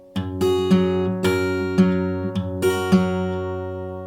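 A short acoustic guitar fill for a song, with an open low E bass note and strummed chord upstrokes ringing in three clear bursts before the strings fade out, played alone with no talking.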